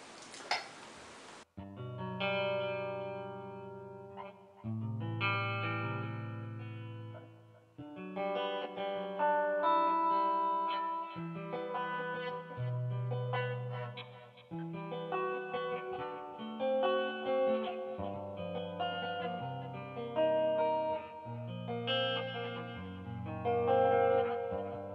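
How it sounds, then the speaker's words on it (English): Electric guitar played through a DiMarzio neck pickup with light reverb and delay, sounding warm as sustained chords and single notes ring out steadily and up close, with no talking. "That's actually the sound of the neck pickup."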